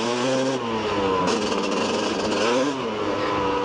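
A KTM 250 EXC enduro motorcycle is ridden along trail paths, its engine loud and close with a steady droning buzz that rises and falls as the throttle opens and eases.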